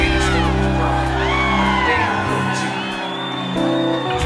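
A concert crowd at the Starlight Bowl in Burbank cheers and whoops loudly for a hip-hop MC, with sustained shouting over a droning musical backing and a brief dip midway.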